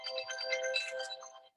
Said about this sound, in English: I guess you could hear my phone going off there.